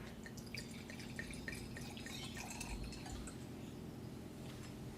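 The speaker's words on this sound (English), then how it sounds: "now I'm pouring." Wine poured into a glass at a blind tasting, a steady trickling stream with dripping splashes, close and fairly quiet, running for the whole stretch with no talk over it.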